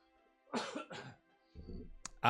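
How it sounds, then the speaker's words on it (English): A couple of short coughs and a throat clear sound up close in a quiet room, followed by a brief snippet of a voice. "Sorry, I got a cough real quick."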